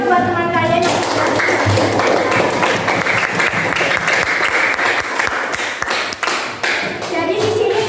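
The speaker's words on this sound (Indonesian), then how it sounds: "tepuk tangan dong buat teman kalian yang sudah" Sixth-grade students applaud a classmate in a classroom, a burst of brisk, uneven hand clapping from many children, close and lively, with a few young voices chattering beneath it.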